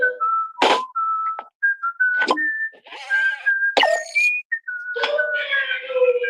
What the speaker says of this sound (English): I'm a whistling wizard.